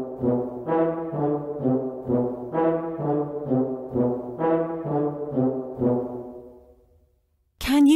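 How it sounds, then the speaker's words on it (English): A French horn plays a slow, legato melody of sustained mellow notes in a clear repeating phrase, ringing alone and fading out before a brief burst of another sound at the very end. "The French horn looks and sounds like this."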